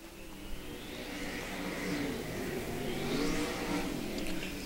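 Stock race cars circle an oval at Valley Speedway under green-flag racing, a steady engine roar that swells as cars pass and fades again, loud and continuous throughout.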